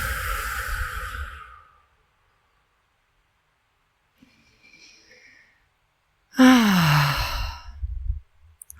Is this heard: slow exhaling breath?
yes